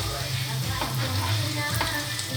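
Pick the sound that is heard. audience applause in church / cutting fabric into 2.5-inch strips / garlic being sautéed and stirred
garlic being sautéed and stirred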